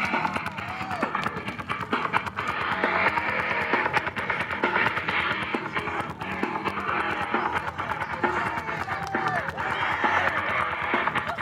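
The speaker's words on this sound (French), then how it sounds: "un tonnerre d'applaudissements pour Psycho!" Wrestling arena crowd applauding and cheering a wrestler's entrance at a Summer of Destruction 2 show, a steady dense roar of clapping that holds loud throughout with voices mixed in.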